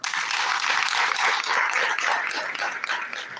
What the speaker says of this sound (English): Let's clap for Haggai.